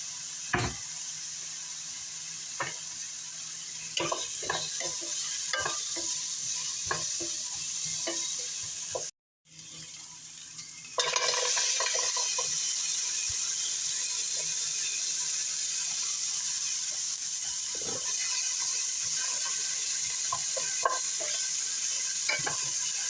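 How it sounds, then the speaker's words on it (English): Peas and carrots sauté with onions in a pan, giving a steady sizzle broken by frequent stirring scrapes, with a brief drop to silence midway before the frying comes back louder. "the peas and carrots saute with the onions and get defrosted and browned up a little"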